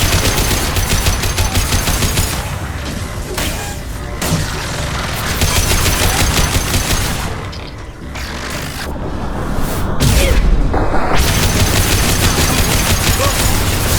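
Sustained weapon fire from the video game Mass Effect 2, loud, dense bursts of automatic shots and blasts continuing almost without pause through the whole stretch, with brief lulls and a heavier impact near the end.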